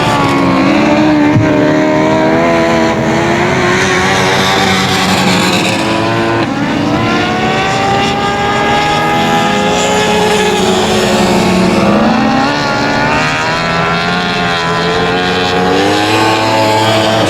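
Race cars on the final lap at 281 Speedway, a loud continuous roar of several engines circling the track, with revving rising and falling as cars pass.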